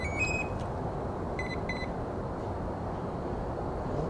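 Electronic speed controllers on an RC Gulfstream G650 EDF jet model give short high beeps, two brief tone bursts around a second and a half in, over a steady broadband hiss.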